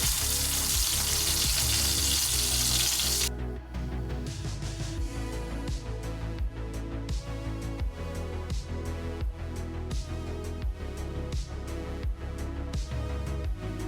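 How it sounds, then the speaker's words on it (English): Pork belly searing in a pan for crispy Chinese siu yuk, a steady sizzle with crackling pops, close and constant, after a brief burst of louder hiss at the start. "I'm gonna jack the heat up to a low medium because I want to put a nice sear"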